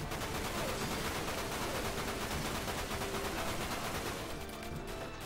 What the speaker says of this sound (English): Just equip the machine gun.